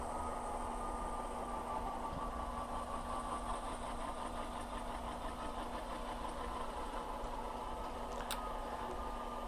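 Athearn AC4400 model locomotive with a DCC sound decoder, reconfigured from factory settings, producing a steady diesel idle rumble with a constant low hum throughout and a brief faint click near the end.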